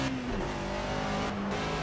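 BMW M3 E30 four-cylinder race car driven in the video game Project Cars, engine revving and shifting with tonal whine dropping and rising, close and continuous.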